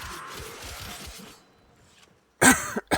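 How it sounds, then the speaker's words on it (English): A short, harsh cough bursts out after quiet background noise, followed by a second smaller cough close to the mic. "I'm so sorry for my coughing."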